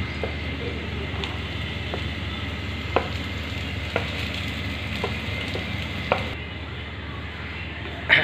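Onions dropped into hot oil and sautéed for a clam (kakka) roast: steady loud sizzling and frying with occasional clicks of a spoon stirring in the pan.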